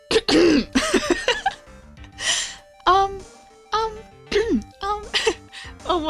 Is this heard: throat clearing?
yes